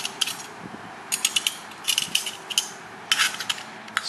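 A ratchet wrench clicks in quick bursts as adjustment bolts on a garage door bracket are loosened, rapid metallic ratcheting in several short runs with pauses between, close and clear.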